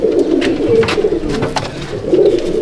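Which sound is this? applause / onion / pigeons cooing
pigeons cooing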